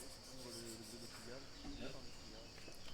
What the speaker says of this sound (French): Désolé pour le bruit qui couvre le bruit des cigales,